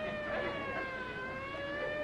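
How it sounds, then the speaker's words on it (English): Wailing sirens from a police car or emergency vehicle, a steady siren tone held for about two seconds at moderate level, with no talk over it. "Them sirens! Somebody's calling the law."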